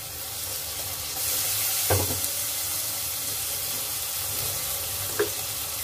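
Garlic and spice paste sizzles in a frying pan on a lowered flame for khichuri, a steady close frying hiss with a couple of brief stirring scrapes.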